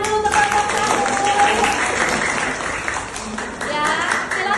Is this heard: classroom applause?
yes